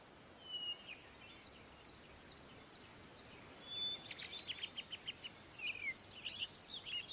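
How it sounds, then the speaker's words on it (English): Birds chirp in a calm garden setting in the Super Mario Galaxy video game, a scatter of short high tweets and trills, light and intermittent, over a soft steady ambient hiss with no music. "It's just sounds of birds chirping"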